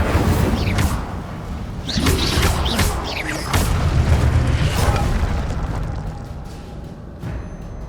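The Incendio fire spell cast in Hogwarts Legacy lands as a series of booming, crackling bursts and whooshes, loud and close, followed by a fading rumble.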